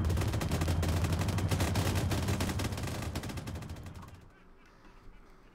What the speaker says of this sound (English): Shoot in the air, boys